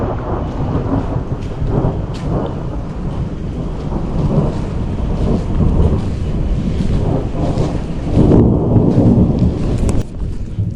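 Thunder rumbles loudly and repeatedly through a steady rain shower in a thunderstorm, deep rolling swells rising and fading over continuous rainfall, with no speech.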